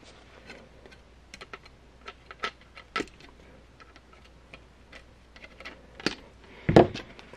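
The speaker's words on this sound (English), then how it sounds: "we're going to snip the wires from the controller" Electric blanket controller wires being snipped, a series of small dry clicks and ticks spaced irregularly, ending in a louder close snap and clunk, with no talk.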